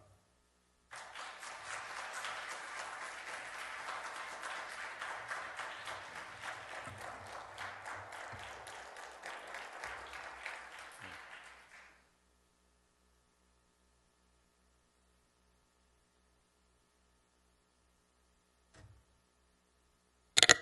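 Youth worship congregation applauding to welcome a pastor, a fairly faint, roomy burst of crowd clapping lasting about eleven seconds, then near silence with a couple of small knocks.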